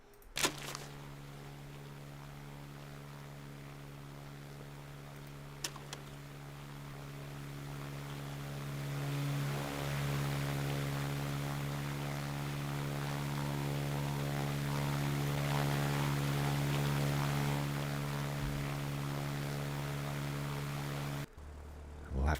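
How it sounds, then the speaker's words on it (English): Aircraft engine drone in the WW2 airbase management game Ground of Aces, a steady tonal hum that swells slightly midway and cuts off abruptly near the end, with faint talk underneath. "so we'll bring in another Spitfire"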